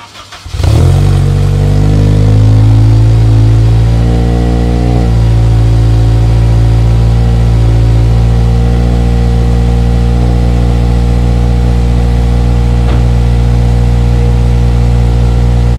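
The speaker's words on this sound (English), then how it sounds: "Get a cold start for you guys." An Acura RSX engine cranks and catches on a cold start, flares briefly, then drops into a loud, steady idle that holds close and continuous with no talking.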